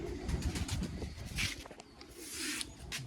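Pigeons coo in a loft among birds being handled, low throaty coos overlapping through the stretch, near and moderately loud, mixed with rustling and some faint bird chatter.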